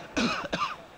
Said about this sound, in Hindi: क्यों सुबह शाम बीड़ी पीते रहते हो और खांसते रहते हो?